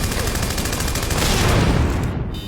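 Sustained automatic gunfire from guns in an animated sci-fi action film, a loud dense fusillade of rapid overlapping shots that roars continuously throughout.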